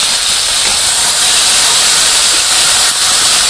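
Food with salt, turmeric and dried chili sautés in a hot pan in a village kitchen, giving a loud, steady, close hiss that runs without a break and without voices.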